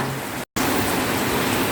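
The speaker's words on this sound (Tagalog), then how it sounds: "Ang lakas ng ulan." Heavy rain in Saudi Arabia pours down steadily in a dense, hissing roar, with a brief dropout of silence near the start.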